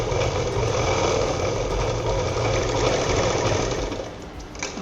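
A sewing machine runs a continuous seam joining blouse fabric pieces, a loud, steady whirring drone with a fast mechanical pulse that slows and fades just before the end, without any speech.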